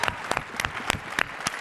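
Audience applause at a closing celebration of a fellowship summit, a crowd clapping in a steady patter of quick, bright claps with periodic louder peaks, fairly close and continuous.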